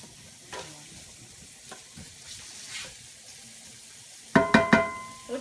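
Chili and spices sizzle quietly in a pan as they cook down, with soft stirring scrapes and a sharper burst of clattering toward the end.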